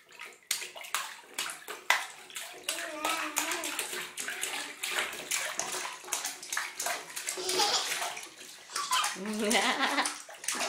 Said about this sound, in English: More splashing, more splashing.